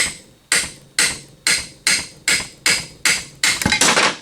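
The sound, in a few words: hammer tapping part out of Polaris Ranger 900 XP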